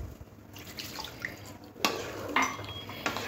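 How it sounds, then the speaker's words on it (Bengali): Water is poured into a pan of simmering ridge gourd curry, making a brief splashing rush with a few clinks of the pan and utensil, close by and without speech. "এরপরে দিয়ে দেবো জলটা পরিমাণ মতো"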